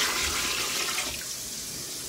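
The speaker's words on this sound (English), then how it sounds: "So my daughter's putting the cold water in" Cold water runs from a tap into a sink for washing cotton rope before dyeing, a close, steady gushing splash that eases slightly partway through, with no talking.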